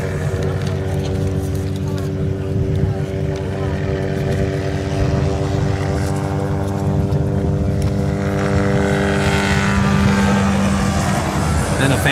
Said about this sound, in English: There's X Insurance helicopter flying over X Insurance South.